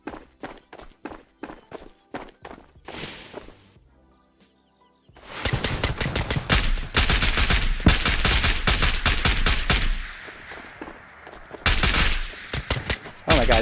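Gunfire in Ghosts of Tabor, a magazine emptied in sharp repeated shots: an opening string of cracks, a short quiet gap, then long dense bursts, loud and close.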